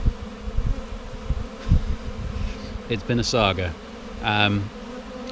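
A honeybee swarm keeps up a continuous low buzz close by, while a person speaks briefly over it partway through.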